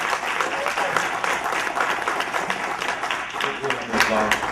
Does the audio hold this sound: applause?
yes